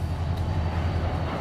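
A freight train backs up slowly in a Beecher, Wisconsin log yard during switching, giving a low steady rumble of locomotive and rolling cars nearby.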